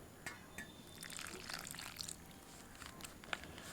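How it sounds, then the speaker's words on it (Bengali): Water trickles and drips into a sabudana pakora batter of potato, ginger and green chilli paste, with scattered soft splashes and clinks over a quiet background. "এবার দিয়ে দেবো জল।"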